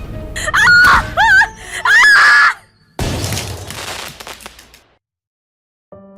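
Several loud, wavering screams ring out in quick succession, followed by a sudden heavy burst that trails off into silence.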